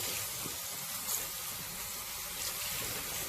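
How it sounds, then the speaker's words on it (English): A tap runs steadily into a sink as a makeup-removing cloth is rinsed, a constant soft hiss of flowing water at low volume with no talking. "So you can go ahead and rinse."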